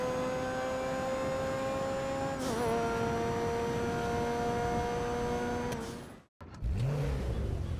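The Komoda sports car in GTA Online drones with a strong, steady engine tone that shifts gear partway, holds high revs, then cuts out abruptly before a passing whoosh.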